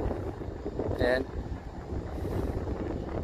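Strong wind buffets the microphone with a constant low rumble, apparently on a boat, while a voice speaks one short word partway through.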